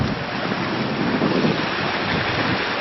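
Steady, rushing roar of small waterfalls along a backyard fish pond stream crossed by little bridges, a close, continuous broadband wash of falling water with no gaps or talk.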